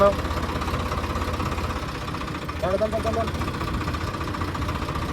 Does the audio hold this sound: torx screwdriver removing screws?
no